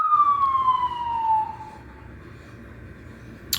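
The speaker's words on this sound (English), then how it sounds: "I live in the ghetto, y'all, so please excuse my sirens." A siren wails with a falling tone, loud at first then fading into the distance over steady low traffic rumble.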